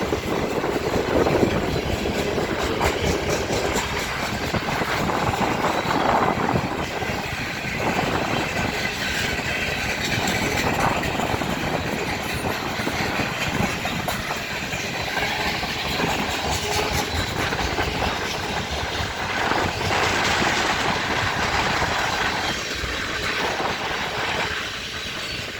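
A freight train rolls past up close, a steady, loud rumble of wheels and clattering cars that holds unbroken for the whole stretch, with no voices over it.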